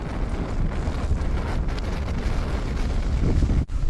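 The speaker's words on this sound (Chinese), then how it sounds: "外面实在太大风了" Strong wind buffets the outside of a camper van in cold weather, a loud, continuous roaring rumble with gusty swells and microphone buffeting, broken by one brief dropout near the end.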